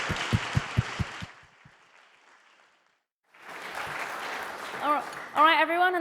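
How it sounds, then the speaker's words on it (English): A short burst of audience applause for a conference panel, a few loud claps that quickly thin out and fade into a hush before a voice begins addressing the room. "let's thank the panel with a good hands of applause"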